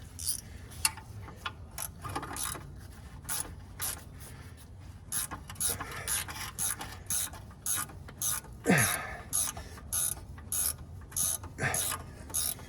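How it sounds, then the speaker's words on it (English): A ratcheting wrench working on the lower roller bolts of a 22-year-old rubber track excavator, quick clicking strokes repeating in short bursts with brief pauses, close and fairly quiet. "And I'm gonna use a wrench on the other one."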